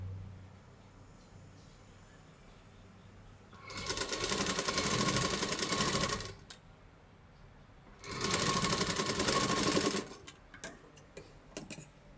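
Sewing machine stitching a burnt blouse under repair at home, two sustained whirring runs of a few seconds each, separated by a quiet pause, with light clicks afterward.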